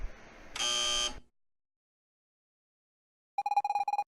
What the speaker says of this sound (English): When you hear the buzzer, move to the left.